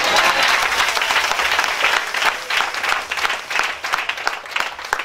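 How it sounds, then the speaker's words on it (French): Applause and acclamation from an audience at a spiritual retreat, dense sustained clapping across the whole stretch, loud and close with a crowd feel. "Ça fait une acclamation."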